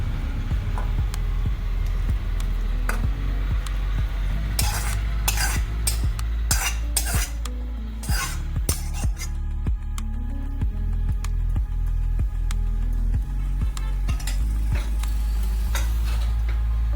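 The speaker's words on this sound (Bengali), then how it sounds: "এবার এটা আমি একটা প্লেটে সার্ভ করছি" Carrot curry being served onto a plate with a utensil, a run of sharp clinks and scrapes of metal on dishware over a low steady background hum.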